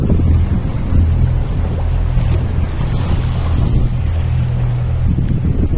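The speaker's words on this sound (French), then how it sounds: "On vient de rallumer les moteurs parce qu'on va bientôt affaler." A sailboat motors near Mindelo harbour in Cape Verde with its engines running before the sails are lowered, a steady low engine drone under loud wind buffeting on the microphone and wash of water.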